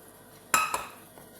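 A spoon clinks twice against a metal pot while butter is stirred, two quick close metallic knocks with a faint scrape between, alone in a quiet room.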